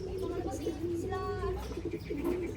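Racing pigeons coo in low, soft, repeated throaty calls close by, with a faint background hum and no clear talk over them.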